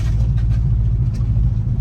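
A Chevy Bel Air with a seized 265 engine and its exhaust dragging rolls along, giving a loud, steady low rumble with a faint scraping rattle on top and no talking.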